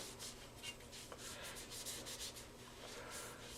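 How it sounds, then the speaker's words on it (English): Faint, steady rubbing as a rag spreads silicone along the barrel of a new Charles Daly Semi-Auto Field Hunter VR-MC 12 gauge shotgun, a soft scratchy swish in quick strokes. "it wouldn't hurt to rub just a hair on the barrel assembly"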